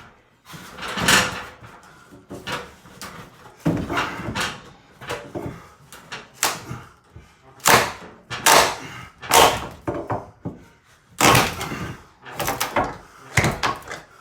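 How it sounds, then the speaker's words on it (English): A pry bar levering boards loose during a house renovation, giving a series of sharp wooden cracks, creaks and knocks in irregular bursts, close and loud. "I'm gonna come down here with the pry bar. And we are gonna pry."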